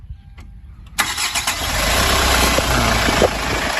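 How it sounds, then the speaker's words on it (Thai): A 2010 Hyundai H1 Deluxe van with a 2.5-litre diesel engine cranks briefly and fires up at close range, then settles into a steady rumbling idle with no talk over it. "เดี๋ยวให้น้องสตาร์ทให้ฟัง อ่ะเออสตาร์ทดิ"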